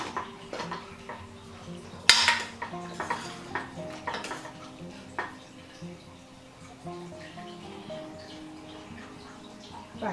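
A home pressure cooker is opened and handled, with a sharp metallic clank followed by scattered pot and lid knocks and light clatter, fairly close in a quiet kitchen.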